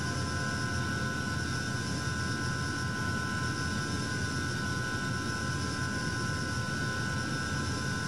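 A steady aircraft engine drone in Microsoft Flight Simulator during a coastal flight from Nigeria to Gabon, continuous and even with a faint tonal whine on top.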